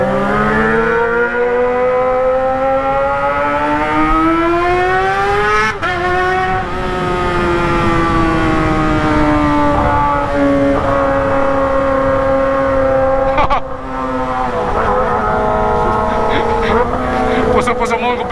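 A loud motorcycle engine, a Kawasaki ZX, revs steadily with rising and falling pitch, holding a high drone for long stretches, close by and continuous.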